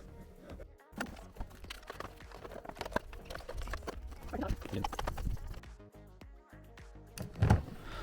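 Hose pipe being wound onto a Hozelock hose cart, sped up, giving a dense run of quick plastic clicks, rattles and rubbing at steady loudness, with a louder clunk near the end.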